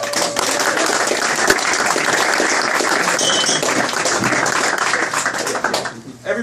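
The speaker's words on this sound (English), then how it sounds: "give yourselves a round of applause" A crowd of tournament players applauds steadily and loudly for several seconds, dense clapping that tapers off at the end.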